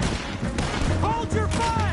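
Heavy gunfire in a Red Dead Redemption 2 gunfight, dense and continuous with sharp shots piling up. Shouting voices are mixed in throughout.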